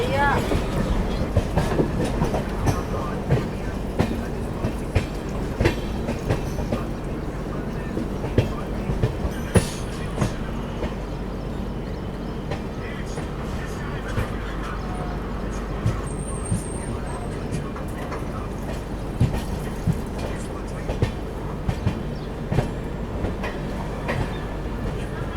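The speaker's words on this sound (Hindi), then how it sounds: "6:06 पर दोस्तों अपनी ट्रेन पहुंच रही है आनंद विहार टर्मिनल" Prayagraj Humsafar Express train rolling into Anand Vihar Terminal, heard from inside with a steady rumble and repeated wheel clatter over rail joints, occasional sharp clicks, and faint voices in the carriage.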